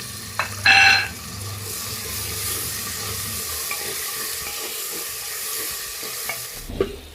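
Tomatoes and green chillies stir-frying in a pan for beef varattiyathu give a steady close sizzle with a sharp clatter near the start and a scrape near the end.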